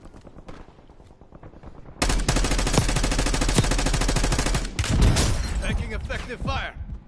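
Sustained automatic gunfire in the Black Ops 6 battle royale, a loud, dense rapid burst lasting several seconds, followed by scattered shots and impacts, after a quieter stretch of game ambience.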